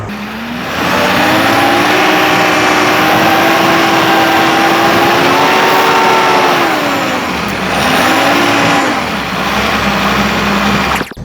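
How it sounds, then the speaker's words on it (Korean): A 5-ton low-deck dump truck revs its engine to drive the hydraulic telescopic cylinder that raises the dump bed, a loud, steady droning roar that rises and dips in pitch with throttle changes, close up and without talk. "한번 엑셀 밟아가지고 올려드릴게요"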